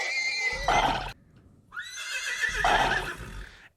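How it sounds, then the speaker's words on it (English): A Minecraft horse death sound effect plays twice: two loud, close, shrill whinnies, each ending in a low rumbling snort, separated by a short gap. "That's a Minecraft horse death."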